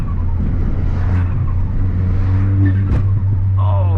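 Ford Fiesta ST four-cylinder engine revving loudly from inside the car, a steady low drone rising and falling, with a voice heard over it.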